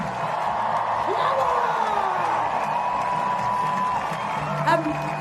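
Crowd at the Red Roses rugby World Cup champions party in Battersea Park cheering and whooping steadily, a broad continuous roar with shouts rising through it and talk mixed in.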